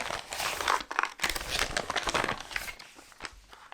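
A padded bubble-wrap envelope used for mailing a bracelet crinkles and rustles continuously up close, loud and busy throughout with brief pauses, with no voices.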